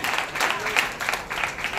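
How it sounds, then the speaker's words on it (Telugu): A church congregation claps together at a convention service, a dense burst of applause that rises and falls for a couple of seconds, close and lively. "చప్పట్లు కొట్టండి"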